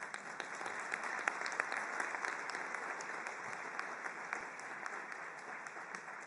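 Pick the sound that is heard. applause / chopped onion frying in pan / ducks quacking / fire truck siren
applause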